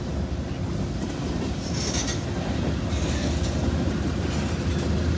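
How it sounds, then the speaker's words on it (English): A northbound CSX M500 freight train rolls past near Evansville Yard in Indiana, with a steady, loud rumble of railcars and rhythmic clickety-clack from the wheels, plus some squeal, all continuous and close with no talking. "Got a CSX M500 headed north."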